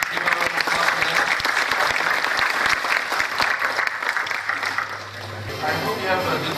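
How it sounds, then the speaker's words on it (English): Audience applause fills the hall at a tech conference after a panel discussion, dense and steady clapping that swells and then eases slightly near the end. "Give a round of applause for them."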